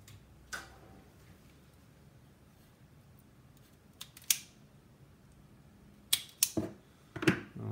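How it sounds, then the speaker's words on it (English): Thin gauge wire being cut and stripped at an electronics workbench, with a few sharp snips and clicks scattered among quiet pauses, growing into a small cluster of crisp cuts near the end. "So we've got some thinner gauge wire that's pretty long. Let's go ahead and cut and strip"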